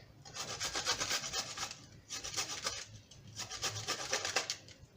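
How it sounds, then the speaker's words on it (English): Garlic grated on the fine side of a grater, with close, loud bursts of rapid rhythmic scraping in three clusters separated by brief pauses. "So I'm taking this side and I will grate it in this."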